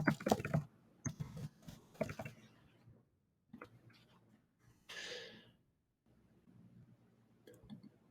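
Keys tapping on a computer keyboard while entering a course name, in short bursts of quick clicks with pauses between them, fairly faint and close.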